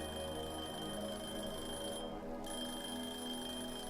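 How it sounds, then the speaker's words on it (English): A steady electronic alarm rings in the Cooking Simulator video game kitchen, a continuous synthetic tone that is constant and even, with a brief dip in its brightness partway through, and no voices over it. "the alarm's going to ding again in a minute"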